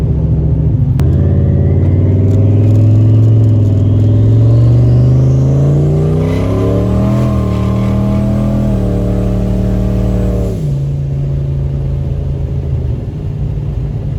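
A turbocharged Ford Mustang accelerates hard at 10 psi of boost, its loud engine note climbing steadily as the tires break loose, then dropping off sharply near the end while the engine keeps rumbling.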